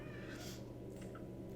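A cat meows in the video game Danganronpa: Trigger Happy Havoc, a few short, fairly faint mews over a low background hum, with no voices.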